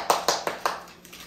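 Four crisp hand claps in a steady rhythm, close and fairly loud against low background noise, applause for a 1.8-kilogram Kirkland trail mix bought at Costco.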